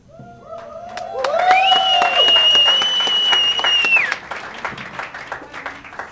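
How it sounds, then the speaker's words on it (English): An audience at an AGOA exporter awards ceremony in South Africa claps for the winners, with sharp hand claps running under a loud sustained musical tone that cuts off partway and leaves the clapping alone. "Let's give him a big round of applause, all our winners"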